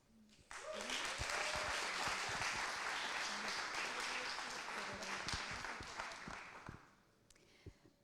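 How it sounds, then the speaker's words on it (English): A room full of people at a student startup pitching competition claps warmly for several seconds, dense applause that starts abruptly and tapers off near the end. "So I would like a warm applause for Margot, who will present you Blaze."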